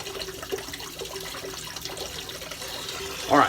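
Water from a bathroom tap runs steadily while someone rinses off after shaving, a soft continuous hiss close by with faint handling noises and a brief louder splash near the end.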